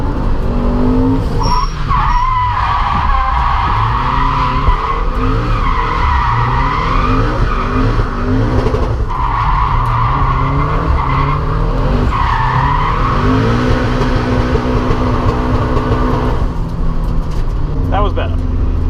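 A Toyota GT86 drifts through a corner on the Rockingham circuit at a drift day, with a loud, continuous engine drone and sustained tyre squeal. The sound stays close and intense throughout, and voices talk faintly underneath.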